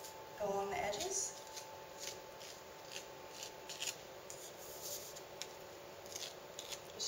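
A knife scrapes along the edges of a pie pan, trimming overhanging flaky pie crust dough, a steady close rubbing and scraping texture with a brief louder handling bump near the start.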